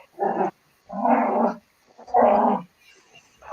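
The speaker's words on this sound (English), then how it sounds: "God damn, this dog is vicious." A vicious dog barks and growls in three loud, harsh bursts at close range, each about half a second long with pauses between, no voices present.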